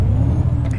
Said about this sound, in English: I'm going to put power brake on